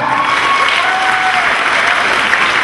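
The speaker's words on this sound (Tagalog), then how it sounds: "Isang palakpak pa uli sa nila." A reunion crowd of a 1979 school batch claps loudly and continuously in a dense, close round of applause.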